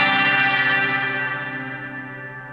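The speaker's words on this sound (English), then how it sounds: "And just by moving where that tremolo starts with the offset function there." A guitar chord rings through a Strymon Volante tremolo with the offset shifting where the pulsing starts, its wavering sustain slowly decaying, close and alone.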